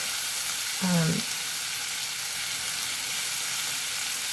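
Steady, even frying hiss of bacon in a pan, close and moderate in level, with a short low tonal sweep near the start and no talking.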